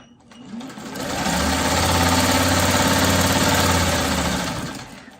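A sewing machine runs a quilting seam corner to corner across a 3.5-inch fabric square, motor ramping up to a steady rapid whir for a few seconds and then slowing to a stop, close and loud.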